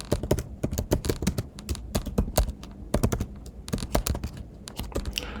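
Fast, close typing on a computer keyboard, with a dense run of crisp key clicks and heavier thuds as code is entered. The typing carries on with only brief pauses.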